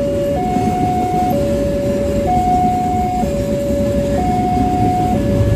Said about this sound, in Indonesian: Lumayan panjang juga untuk kereta barang yang satu ini.